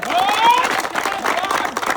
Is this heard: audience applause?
yes